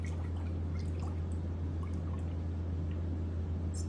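Whole milk pours into a crockpot in a soft, steady trickle with light splashes, faint against a constant low hum.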